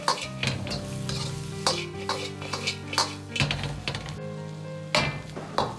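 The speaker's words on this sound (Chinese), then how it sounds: "快速的翻炒几下，炒出锅气" Salt and pepper pork ribs stir-fried with diced red pepper in a wok, loud rhythmic scraping and clanging of the spatula against metal over a continuous hot sizzle, close and without speech.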